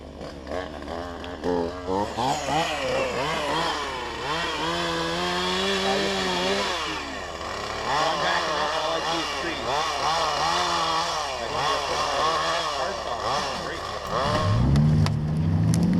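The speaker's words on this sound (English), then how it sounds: "It's time to break out the chainsaw." A chainsaw revs and whines loudly for a long stretch as it cuts trees, its pitch rising and falling as it bites in, with an engine burst near the end.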